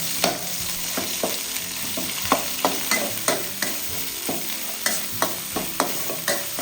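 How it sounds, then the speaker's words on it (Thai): Red curry paste frying in hot oil in a pan for a Thai pork rib stir-fry, a steady sizzle broken by regular scraping stir strokes, close and fairly loud with no voices. "ใส่น้ำมันค่ะ พริกแกงเผ็ด"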